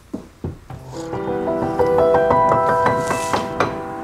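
Soft, muted notes from a Yamaha E502 digital piano played with the power off, struck one after another, thin and quiet with a faint mechanical thump, over faint background noise with construction outside.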